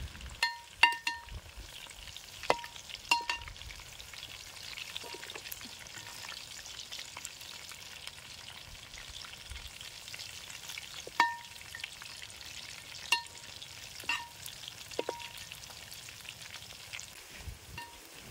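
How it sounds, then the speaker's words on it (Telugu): Chicken pakoda with cashews deep-frying in a pan outdoors in a mango grove, a steady soft sizzle with scattered sharp crackles and pops, plus occasional stirring clinks running through it, no voices. "చికెన్ అడుగు అంటుకోకుండా మధ్య మధ్యలో కలుపుతూ ఉండాలి."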